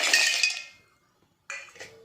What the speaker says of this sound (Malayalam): കുറച്ച് ഐസ് ക്യൂബ് ഇട്ട് കൊടുക്കാം.